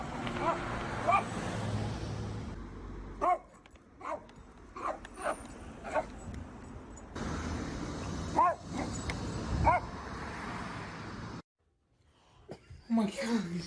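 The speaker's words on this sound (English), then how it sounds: "This dog hates police cars and will bark whenever they see one." A dog in a car gives repeated yips and barks at a police car, short sharp bursts spaced irregularly over a vehicle's interior road rumble that cuts out briefly near the end.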